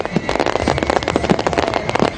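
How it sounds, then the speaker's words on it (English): Fireworks burst at a New Year's Eve celebration on a golf green in Sri Lanka, a dense rapid crackle of many overlapping pops and bangs heard at moderate distance with no talking. "The fireworks display at the Golf Face Green also featured a laser light show."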